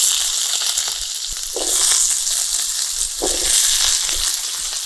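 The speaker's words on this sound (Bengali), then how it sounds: "এবারে লবণ হলুদ দিয়ে আলুটা ভেজে নেব।" Potatoes frying with salt and turmeric in a pan, a loud continuous hiss with swelling surges and low scraping stirs underneath.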